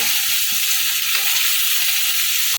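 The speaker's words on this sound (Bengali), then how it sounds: "এটাকে এটাকে ভাজবো একবার করে নাড়া দেবো আর একবার করে ঢেকে দেবো" Pointed gourd frying in a little oil with salt, about to be cooked with garlic, gives a loud, steady, close sizzle that runs unbroken throughout with no voices.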